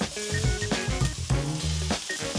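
Onions and mushrooms cook in a pan with a brief, close sizzle, overlaid with tonal clinks or other kitchen sounds throughout.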